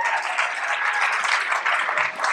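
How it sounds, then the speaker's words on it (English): Audience applauding for a speaker at a live talk event, a dense steady patter of many clapping hands at moderate loudness, continuous and without voices across the short span. "big round of applause for LP."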